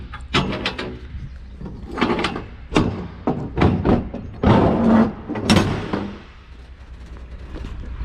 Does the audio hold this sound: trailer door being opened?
yes